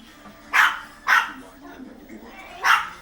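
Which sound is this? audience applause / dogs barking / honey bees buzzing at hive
dogs barking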